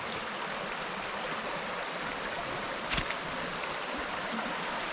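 A creek flows in a steady broadband rush as it splits around a small island, continuous and fairly close, with one brief thump near the middle.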